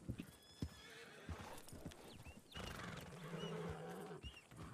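A horse in a Western roleplay video game with horse racing whinnies and neighs over clip-clopping hooves, faint and quiet, with the neigh rising midway amid a busy in-game backdrop.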